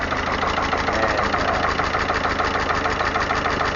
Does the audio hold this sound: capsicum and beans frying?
no